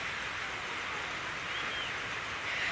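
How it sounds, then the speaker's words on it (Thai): Rain falls steadily outdoors in the early morning, a soft, even hiss that holds at one level throughout with no voices. "ฝนเริ่มตกอีกแล้วเนาะ"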